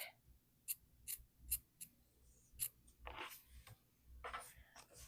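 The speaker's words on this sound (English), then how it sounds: "I was going to rip it, but I think I'm going to just cut." Scissors snip through fabric in a series of short, crisp cuts, some quick and clustered, others spaced apart, close up and fairly quiet with no talking.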